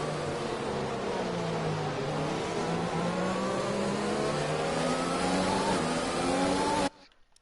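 Formula 1 race car engine in the F1 2020 game at the Canada race, a loud sustained high-revving whine with pitch climbing through gears, then cutting off abruptly.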